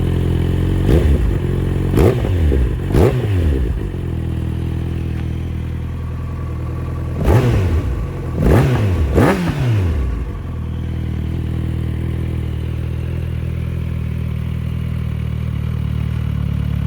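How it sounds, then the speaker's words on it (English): Kawasaki Z900RS Cafe motorcycle (2019) engine idling, then revved with six sharp throttle blips in two groups of three, each rising and falling quickly, close and loud, before settling back to a steady idle. "I'll give it a few throttle blips."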